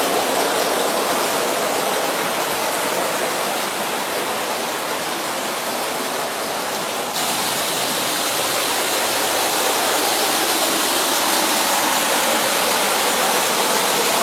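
Steady rushing water pours from a spring-fed spout at a bathing pool, a continuous loud broadband splash with no break, close to the source.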